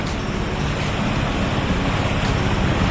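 Floodwaters of the Bhutahi Balan river churn in a steady, loud, unbroken roar of rushing waves, with no one speaking.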